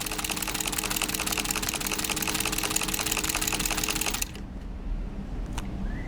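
A Singer sewing machine fitted with a buttonholer attachment stitches a buttonhole in a fast, even rhythmic clatter that runs for about four seconds before stopping abruptly, leaving faint room noise.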